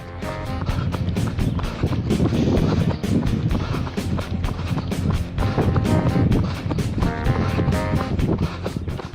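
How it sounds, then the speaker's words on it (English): Heavy wind buffets the microphone in steady rough gusts during a 5k run in Golden Gate Park, San Francisco, with rhythmic running footsteps underneath, loud throughout. "You can hear that it is a little windy today"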